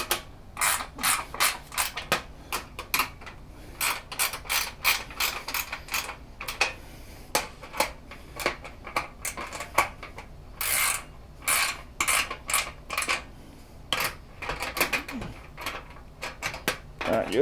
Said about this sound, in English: these are nice ratcheting ring spanners with an open end